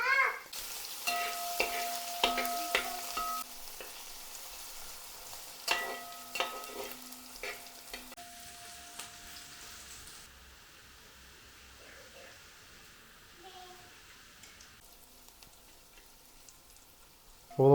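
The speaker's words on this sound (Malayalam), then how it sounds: "അപ്പോൾ നമ്മൾ ഇഞ്ചിയും വെളുത്തുള്ളിയൊക്കെ പച്ചമുളകൊക്കെ പോയി ഒരുമാതിരി റെഡിയായി വന്നിട്ടുണ്ട്." Curry leaves, ginger, garlic, green chili and onion frying for a Kerala-style salmon curry, heard as a soft sizzle broken by a few clusters of clinking stirs, fading quieter toward the end.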